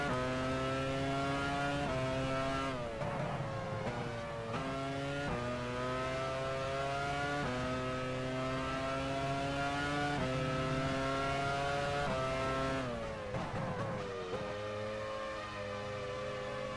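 An F1 race car stuck in gear in the F1 Challenge 99-02 game at the 2001 Belgian Grand Prix, a loud sustained high engine whine holding pitch with repeated abrupt shifts and surges.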